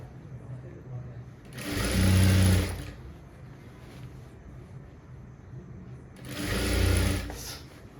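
A sewing machine stitches around a ready-made nighty being altered, with two loud runs of rapid whirring, each about a second long, separated by a quieter pause.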